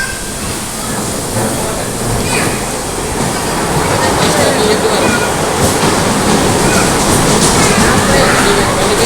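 Waterfalls at Munnar roar as a steady, dense rush of falling water, loud and close throughout, with faint voices in the background.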